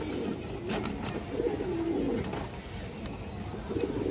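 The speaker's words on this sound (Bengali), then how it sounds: "এই যে দেখেন খুব সুন্দর এক জোড়া কবুতর।" A pair of male and female racing pigeons coo with low, repeated throaty calls that sit close and steady, with faint chirps and light rustling around them.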